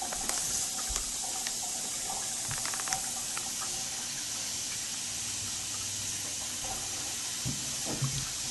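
Hot tap water runs steadily over an aquarium decoration for a Molly fish tank, a continuous hissing splash at a sink with faint clinks and handling noises.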